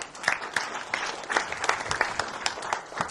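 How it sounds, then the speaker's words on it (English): An audience at a formal academic session gives a round of applause, a scattered crowd of claps with distinct individual hand strikes, moderately loud and close. "Let's give a round of applause."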